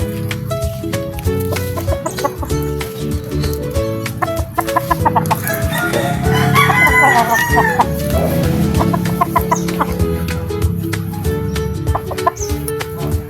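Several backyard chickens cluck steadily and close by, a flock chattering continuously with occasional louder squawks.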